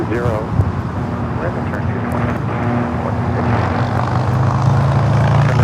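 A Kalitta Air Boeing 747-400 freighter in older livery passes overhead near Los Angeles International Airport, a steady, loud jet engine roar that builds slightly over several seconds while someone talks.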